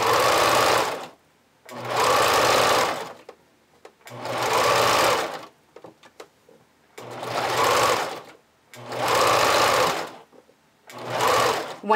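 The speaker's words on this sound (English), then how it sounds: "as you stitch on the band elastic, pull on the elastic slightly" A sewing machine stitches band elastic onto a vintage-style bra in six short bursts of about a second each, separated by brief pauses with faint handling noises, loud and close.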